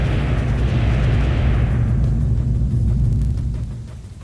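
Heavy gunfire and explosions in the war strategy game Ground Control 2 form a loud, dense roar of blasts and booms. It stays continuous, then eases off near the end, with no voices.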